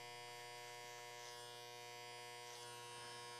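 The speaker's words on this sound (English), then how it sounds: "we want to do a little bit of tapering with the sideburns with the clipper blade in the open position" An adjustable hair clipper with the blade open buzzes steadily and close while tapering sideburns during a men's haircut, its tone unbroken throughout.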